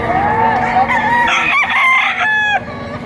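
A gamecock crows loudly and close, one long drawn-out call with a shrill, rising tone, standing alone, at a rooster market in Padre Garcia, Batangas.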